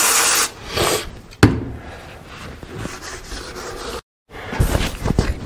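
Gasket surfaces of a Caterpillar D4 radiator being cleaned, close scraping and rubbing strokes in uneven bursts with a sharp scrape near the start and a brief break partway through, heard alone.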